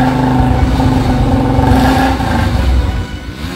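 A motorcycle engine runs loud and close with a throaty revving drone, holding steady before dipping and easing off near the end.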